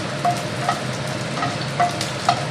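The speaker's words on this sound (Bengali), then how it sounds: "ফোড়নটা ভেজে নেব।" Tempering spices (phoron) frying in hot oil for a bottle gourd ghonto with bori: a steady soft sizzle with a few light clicks of a spoon against the pan, close by and fairly quiet, with no voices.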